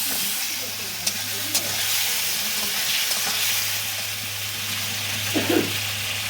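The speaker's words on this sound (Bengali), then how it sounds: "আর দিয়ে দেবো আলুটা, আর আলুটা কষাতেই থাকবো" Potatoes sautéing in a watery spice paste in a pan, a steady close sizzle and hiss with occasional spoon knocks and scrapes, over a low constant hum.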